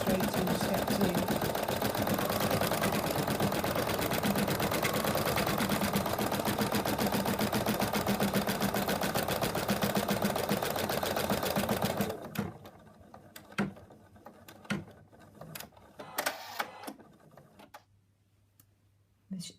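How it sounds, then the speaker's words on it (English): An embroidery sewing machine stitches out an outline of a Fred the Frog design, running in a steady rapid mechanical rhythm at close range for about twelve seconds, then stopping and leaving faint clicks and handling noises. "The machine is finished stitching out the outline, giving us a guide where we have to put our fabric."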